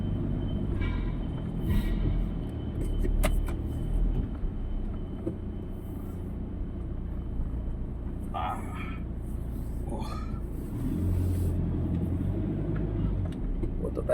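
A car rolls steadily along a wet, slick road after rain, with a constant low drone of engine and tire hiss throughout and faint scattered noises over it.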